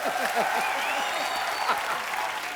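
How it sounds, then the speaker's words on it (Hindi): Studio audience applause at a comedy talk show taping, a steady dense wash of clapping filling the whole stretch, with faint overlapping voices and some whistles or cheers riding on top. "एक बार जोरदार तालियां होनी चाहिए।"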